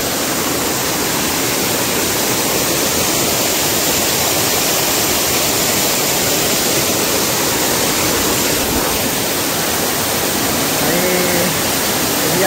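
Kurdkot waterfall at Deogarh pours onto rocks in a dense, unbroken roar, loud and close throughout, with a faint voice briefly audible near the end.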